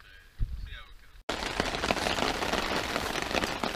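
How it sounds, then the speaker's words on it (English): Steady rain pattering densely on a tent during a riverside fishing trip, a constant close hiss of drops that cuts in abruptly after a quieter opening second with a faint voice. "It just keeps raining."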